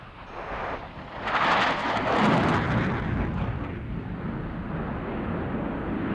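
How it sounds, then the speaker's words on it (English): A loud, continuous CF-18 Hornet fighter jet roar in full afterburner during a turn, close and powerful, swelling in the first seconds and holding steady throughout. "Throughout the turn, which will be flown in full afterburner, Gary will experience over 7 times the force"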